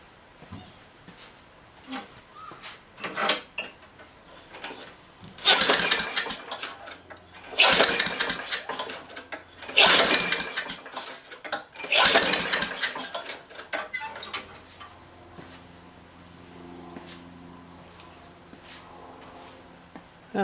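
A Craftsman lawn mower with carburetor trouble and a missing muffler is pull-started, giving several loud, rough bursts of engine noise separated by short pauses, then fading to a quiet idle-like hum.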